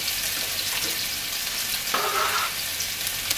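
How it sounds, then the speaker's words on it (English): Ginger and garlic frying in a little oil in a wok, a continuous close hiss and crackle with a brief stirring scrape midway. "Start in your wok with a little oil. And to that, we're going to go in with some ginger and garlic."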